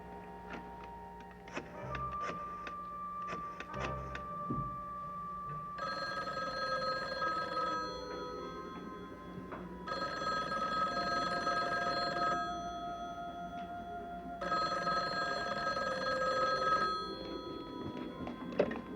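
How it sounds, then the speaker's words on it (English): A telephone bell rings indoors in a drama scene, sounding in three long, steady bursts separated by short pauses, with faint knocks at the start and no speech. "why didn't you answer the phone?"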